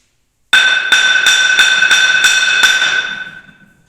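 Seven sharp ringing strikes on a flour mill stone in a steady rhythm, each with a bright metallic ring that hangs on and fades away after the last blow.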